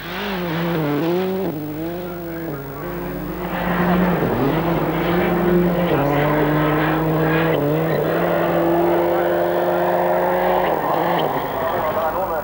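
A Toyota Corolla rally car runs a snowy Arctic Lapland stage in Finland, its engine droning loudly and steadily with rising and falling pitch through gear changes, overlaid by the voice of a commentator.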